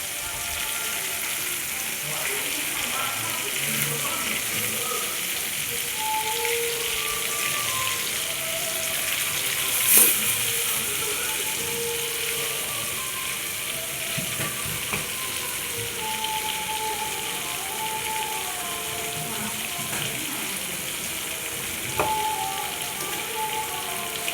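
Food sizzles steadily in a hot pan as a home cook lets one side brown before flipping it, a continuous close frying hiss with a brief clatter midway and faint background sounds.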